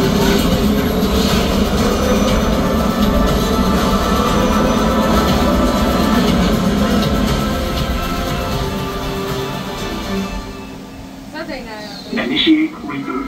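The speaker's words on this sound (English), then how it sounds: "Fireball thrusters." Simulated fireball thrusters firing on a space ride at the U.S. Space & Rocket Center, a loud, steady roaring rumble that fades toward the end while voices speak over it.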